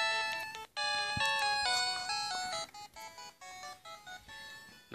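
A cell phone rings nearby with bright, melodic electronic tones in repeating phrases, loud and mostly unbroken before breaking into shorter, choppier bursts, with no talk over it.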